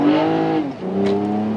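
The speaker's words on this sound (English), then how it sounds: "I'm going to hammer down and let you see how it shifts." A Toyota Camry TRD revs hard under heavy acceleration, its engine note climbing, dipping briefly at a gear shift, then pulling up again, loud and close from inside the car.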